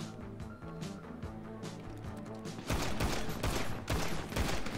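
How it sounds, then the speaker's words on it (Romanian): Machine gun fire crackles in GTA Online, starting as a softer rattle under music and then turning into louder, dense rapid bursts in the second half. "avea mitralieră ăla"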